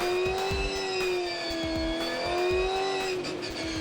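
V8 Supercars on a warm-up lap at the Darwin Triple Crown, a steady, loud engine drone with a rising and falling pitch as the racing cars circulate.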